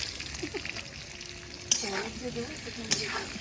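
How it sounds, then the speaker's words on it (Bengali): Potatoes fry in hot oil with a low, steady bubbling sizzle, punctuated by a couple of sharp clicks and faint background voices. "এদিকে আলু ভাজা হচ্ছে"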